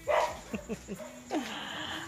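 A dog barks and yips in a quick series of sharp, close calls, followed by a higher whimpering yelp, at a home gathering, with faint background noise.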